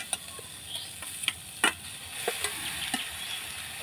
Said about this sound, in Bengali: সবজির সঙ্গে আলুটাকে আমি ভালো করে কষিয়ে নিব